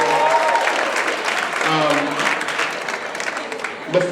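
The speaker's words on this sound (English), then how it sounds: "Let's give him a big round of applause, first of all, everybody." An audience claps steadily throughout, a dense patter of applause with a voice speaking over it.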